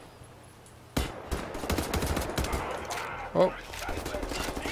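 Gunfire from the shooter Wolfenstein: The New Order: a sharp shot opens, then a burst of rapid automatic fire follows, with a brief exclamation from a player.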